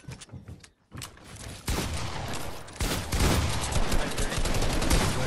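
Gunfire in Fortnite comes in dense, rapid bursts that grow louder and more continuous, with a few scattered shots and a brief gap at the start.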